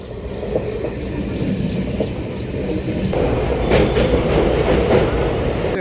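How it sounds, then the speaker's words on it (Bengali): A train rumbles into a station steadily, wheels clattering on the rails, growing a bit louder and nearer toward the end, with faint brakes squealing. "5টা 10-এর ট্রেন, 5:30 টাইমে ট্রেন ঢুকছে।"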